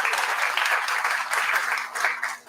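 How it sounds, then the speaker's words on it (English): An audience claps at a ribbon-cutting ceremony for a turbo lab, a warm, dense round of applause that swells and eases in waves before fading at the end. "Let's have an applause for that."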